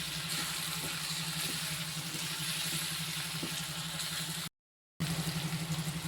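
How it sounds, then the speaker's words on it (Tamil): Water pours into a pan of mango pachadi with curry leaves sautéing, a steady close hiss and sizzle with a faint rhythmic bubbling underneath, then a brief gap before the sizzling resumes. "இப்போ நம்ம கொஞ்சம் தண்ணி ஊற்றிக்கிடுவோம்"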